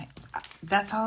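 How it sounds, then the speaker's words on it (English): A dog gives a short whine or yip, close by, mixed in with a person talking over it. "That's my dog"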